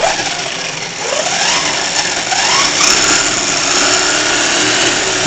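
A Turbo Speed 550 brushed motor in a 1/10 4x4 IMEX Samurai short course truck, running on a 3S battery, revs with a loud, steady high-pitched whine that rises and falls through several sweeps and carries no speech.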